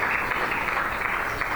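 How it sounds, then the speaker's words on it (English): Audience applause for the organizers at a Labour Day gathering with employer federations, a steady dense clapping wash that holds at an even level throughout, with no voices standing out. "A round of applause for all the organizers and for this activity."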